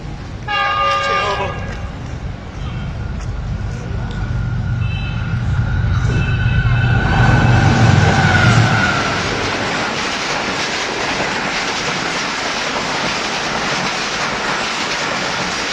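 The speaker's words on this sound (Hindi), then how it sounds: "ये वीडियो 16 डाउन कराची एक्सप्रेस की है, जो कानाकाचा फ्लाईओवर से पास हो रही है।" Karachi Express train (16 Down) passing over the Kanakacha flyover in Pakistan, a loud horn blast at the start followed by the heavy rumble and clatter of the train rushing past close by, steady and loud throughout.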